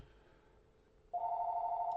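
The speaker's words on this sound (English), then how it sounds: "Sorry about the phone ringing." A single steady electronic telephone ring starts midway and holds loud and clear to the end, following a quiet room with no one speaking.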